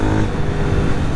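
A 2025 Jawa 42 FJ motorcycle with a liquid-cooled engine accelerates in a loud, steady, close roar that lasts the whole moment, with no voices.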